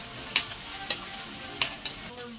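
Garlic hits hot oil already flavored with ginger for a chicken curry, giving a steady close sizzle broken by three or four sharp stirring scrapes and clicks, with no voices.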